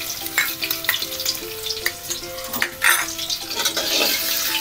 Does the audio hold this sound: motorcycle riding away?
no